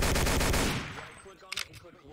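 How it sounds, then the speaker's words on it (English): Rapid automatic gunfire rattles in a WWII-style video game battle around a town, a dense close burst for under a second that fades into a few scattered, fainter shots. "We're getting shot."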